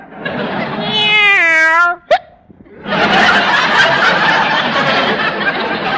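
A cat gives a long, loud drawn-out meow, followed by a brief sharp sound and then a stretch of laughter or chatter.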